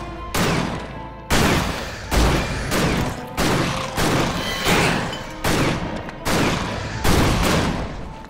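Repeated shotgun blasts from the action RPG Victor Vran, about nine loud, sharp shots at a roughly steady pace, each a heavy boom with a short ringing tail, with no talking over them.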